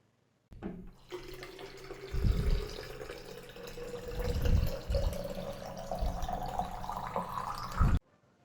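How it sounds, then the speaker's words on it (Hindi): Water from a filter runs into a bottle up close, a continuous gurgling stream whose pitch climbs steadily as the bottle fills for about seven seconds before stopping abruptly. "सबसे पहले मैं फ़िल्टर से अपने बॉटल में पानी ले लूँ"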